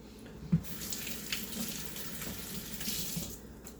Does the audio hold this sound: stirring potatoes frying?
no